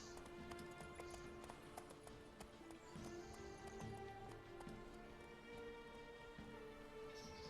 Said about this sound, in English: it'll be more horse racing